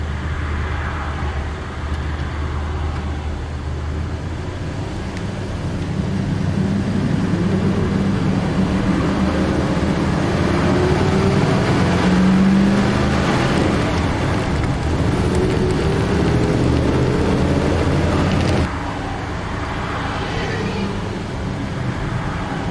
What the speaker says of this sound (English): Wickham Road traffic.